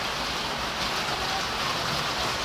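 Steady rain falls outside on a hot day of about 30 degrees Celsius, a dense, even hiss that holds at one level throughout with no talking over it.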